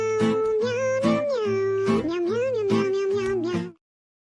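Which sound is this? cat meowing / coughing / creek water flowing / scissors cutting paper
cat meowing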